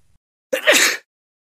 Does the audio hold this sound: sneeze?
yes